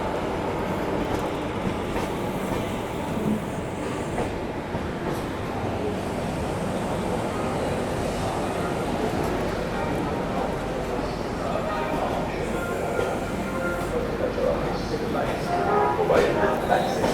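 The rake of the Prayagraj Gwalior Express is shunted at Prayagraj Junction, a moderate, continuous rumble of rolling railway cars with occasional knocks, while a voice talks over it.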